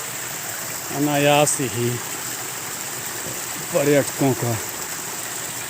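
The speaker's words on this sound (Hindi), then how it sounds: "चारों तरफ पानी गिरने की आवाज़, बहते हुए झरने" A waterfall and flowing water surround the listener with a continuous broadband rush, while a person speaks over it in two short bursts.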